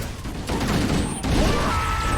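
Grenade blasts in the Halo Combat Evolved game fight aboard the Pillar of Autumn, with loud, dense bursts of explosions and crashing debris running back to back without a pause.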